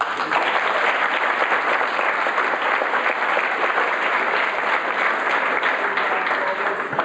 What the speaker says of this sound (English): Another round of applause for our choir